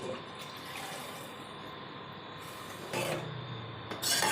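Two glasses of water pour into a pan of besan, onion and spice mixture for Rajasthani kadhi. A quiet hiss gives way to two short, louder splashing gushes near the end. No talk.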